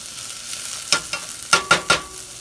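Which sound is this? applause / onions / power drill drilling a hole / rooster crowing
onions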